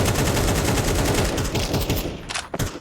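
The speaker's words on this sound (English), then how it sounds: "spraying through that smoke at 1 HP" A rapid automatic rifle spray rattles out in a Counter-Strike 2 esports match, a dense burst of loud shots for about two seconds that then tails off into a few separate cracks.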